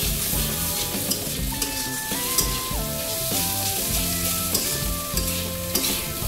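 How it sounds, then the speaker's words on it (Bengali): Pieces of katla fish fry in oil with a continuous, fairly loud sizzle and occasional stirring scrapes, while a melodic tune plays in the background. "ক্রমাগত কিছু সময় জুড়ে ভাজা করতে হবে"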